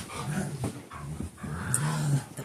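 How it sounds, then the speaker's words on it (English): A puppy at play gives low rumbling growls and small whines close by, with soft scuffling and no talk over it. "The pup's playing."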